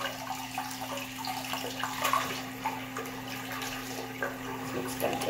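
Water pours steadily from a tap with a splashing, hissing wash over a low constant hum.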